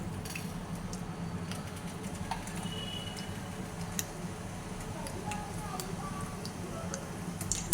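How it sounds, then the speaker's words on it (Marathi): Mustard seeds crackle in hot oil for a dhokla tempering, giving sparse, sharp pops and ticks over a low kitchen background, with faint voices in places. "मोहरी चांगली तडतडली की आपण गॅस बंद करून घेऊया"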